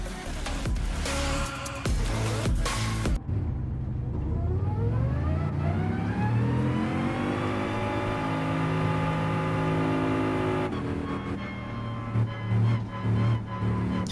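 Bugatti Veyron engine in Gran Turismo Sport accelerating with a long rising whine that sweeps upward in pitch and holds high, loud and close, set between stretches of broadband road and tire noise.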